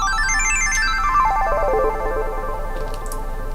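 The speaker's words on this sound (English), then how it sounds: "It's just a triangle wave with nothing else. There is a delay on it to give it a little bit more spaciness" A lone synth triangle wave runs up and back down a pentatonic arpeggio in bright, clean notes, with heavy reverb and delay trailing each tone into a spacious wash.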